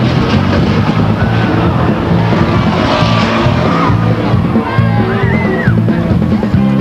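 Race trucks roar through the turns at Stockton 99 Speedway, a loud, dense rumble of several engines with rising and falling revs, and an announcer's voice running underneath.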